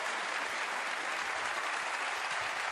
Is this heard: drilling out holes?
no